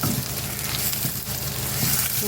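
Onions sautéing in a pan for Tamil prawn thokku, a steady close sizzle and crackle of frying with faint stirring bumps, continuous and fairly loud throughout, with no talking.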